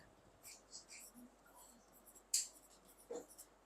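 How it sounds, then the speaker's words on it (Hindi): A pen scratches out numbers on paper in short, faint bursts of strokes, with a few louder taps and scrapes near the end and no voices. "मैं इधर लिख देता हूं 12 लाख"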